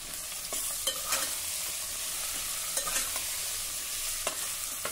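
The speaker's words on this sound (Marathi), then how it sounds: "एक मिनिटासाठी आता ह्या भाज्या आपण परतून घेऊ।" Potato, peas, cauliflower and carrot pieces stir-fry in a pan with a steady sizzle, broken by light scrapes and taps of a spoon at a near, moderate level, with no voices.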